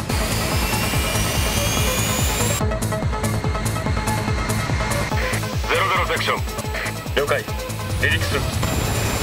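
Boeing 747 jet engines whine and roar on the runway before takeoff, a loud, steady turbine drone with a high tonal whistle, overlaid by clipped radio chatter from a voice speaking throughout.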